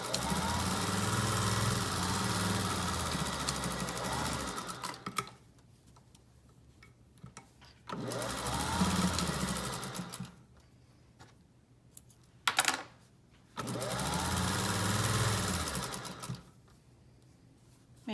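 A sewing machine stitches a face mask seam in fabric with a quarter-inch allowance, running in three steady bursts of a few seconds each, separated by quiet pauses. The fast mechanical whir is close and clear, with no talking.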